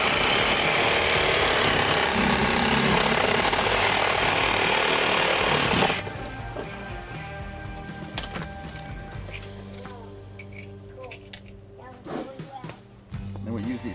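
A power saw cuts through the antlers of a live whitetail buck, droning loud and steady for about six seconds before stopping, after which quieter handling clatter and soft talk follow.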